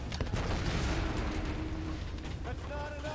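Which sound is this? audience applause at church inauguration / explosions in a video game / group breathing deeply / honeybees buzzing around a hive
explosions in a video game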